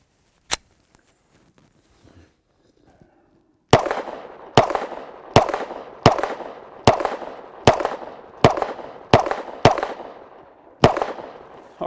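A Glock 20 pistol fires 147 grain .357 SIG loads outdoors: one sharp shot, a pause, then nine loud close shots in a fairly steady rhythm, each with a short echoing tail.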